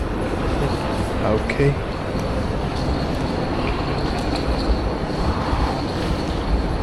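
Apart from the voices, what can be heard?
train at station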